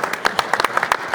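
Short burst of audience applause for a panelist at a public security forum in Chile, a modest crowd clapping in loose, distinct claps close by.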